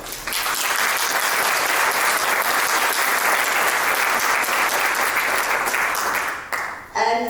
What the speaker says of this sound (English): give the panelists a huge round of applause